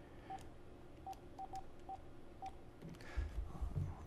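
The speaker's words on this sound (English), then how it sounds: "We're going to get Cary Squires on the phone to talk a little bit about his win" A telephone is dialled for a call, giving six short touch-tone beeps in an uneven sequence. They are quiet over a low hum, and a few muffled knocks follow near the end.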